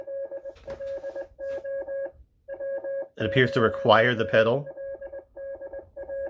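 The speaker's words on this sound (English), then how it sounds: "It's sending Morse code to me." A HasLab Ghostbusters Ghost Trap toy sends Morse code as clipped electronic beeps in short and long bursts, close and clear, broken at the middle by someone talking over it.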